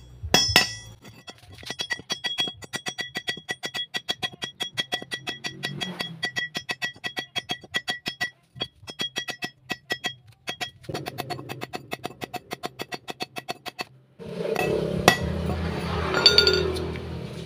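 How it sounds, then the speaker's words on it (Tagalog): Sharp metallic strikes of a hammer pounding metal for a used-oil stove burner ring out in a steady series, loud and close, each hit leaving a brief clink, followed by a burst of rougher noise near the end. "gagamitin natin ng martilyo. Pupukpukin natin."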